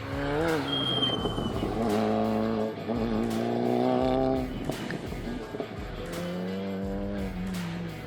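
A VW Mk8 Golf GTI prototype laps the track at Lime Rock Park, its engine loud and close, with rising and falling revs through gear changes and tire squeal through the corners, under a voiceover.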